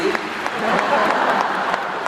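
A concert audience applauds steadily, dense clapping filling the hall, with a voice talking over it.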